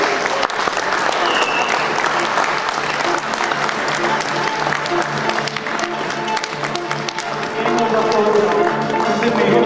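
Applause at a game pitch competition's award announcement as 99 Games is named winner, steady clapping from a crowd lasting throughout with some voices mixed underneath.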